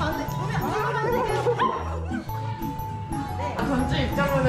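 A puppy at a natural-grass dog cafe yips and whimpers in short bursts, mixed into a busy, dense background of voices and other sound.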